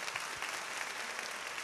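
A congregation at an evening worship and prayer gathering claps together in a brief, steady burst of applause, fairly distant and even throughout.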